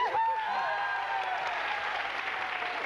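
A studio audience applauds on a French TV quiz show from 1989, a Trivial Pursuit game; steady clapping starts strong and carries on, with a bright tonal game sound sweeping over the start.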